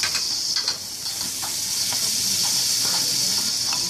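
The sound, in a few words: garlic, tomato and celery sautéing in a pan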